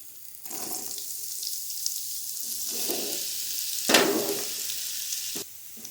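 Chopped raw mango sizzles steadily in a pan with fenugreek seeds and dried red chillies while it is stirred for mango chutney. The sizzle is close and continuous and briefly swells with a stir, with no talking.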